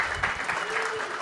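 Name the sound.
audience applause at comedy show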